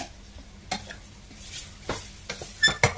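A spoon stirs a pot of coconut-milk vegetable stew with dried squid, bringing a few soft, scattered scrapes and clinks against the pot over a quiet background, louder toward the end.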